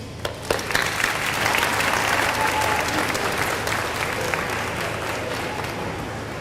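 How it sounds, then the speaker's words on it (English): Warm, sustained applause fills a room at a high school athletic banquet, steady clapping from a seated crowd welcoming a new coach, fading slightly toward the end. "So we just want to give a big round of applause for our new coach."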